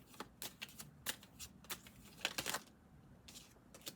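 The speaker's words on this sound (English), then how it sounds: "Oh, this is tarot. We're going to do a live shuffle." A deck of tarot cards is shuffled by hand up close, giving quick crisp riffles and flutters in uneven bursts with brief quiet gaps between them.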